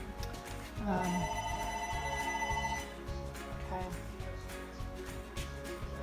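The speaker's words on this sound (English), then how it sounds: "So my house phone's ringing." A house landline phone rings in a home under kitchen remodeling, giving a bright, repeated electronic trill in clear bursts under and between talk nearby.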